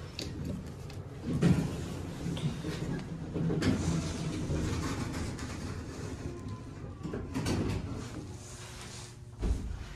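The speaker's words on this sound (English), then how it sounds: "That's the subway you're just hearing." A low, continuous rumble of a subway train passing directly below a service elevator in a Toronto shopping mall, with rattling and mechanical clatter rising and falling over about ten seconds, no voices.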